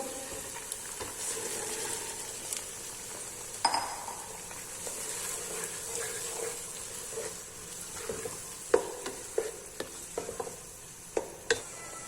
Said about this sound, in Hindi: अब हम मटर डाल देंगे इसके अंदर